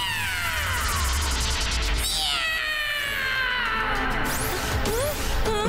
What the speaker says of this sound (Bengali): মিয়াও মিয়াও ডেকে আমি ম্যাও ম্যাও ম্যাও ম্যাও।